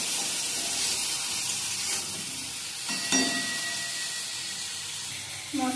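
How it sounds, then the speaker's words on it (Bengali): Amaranth stalks and chopped potato with turmeric and salt fry in a pan with a continuous broad sizzle and occasional stirring scrapes, close and steady, with no voices. "হলুদ গুঁড়ো দিয়ে ডাঁটা আর আলু ভালো করে ভাজা ভাজা করে নেব।"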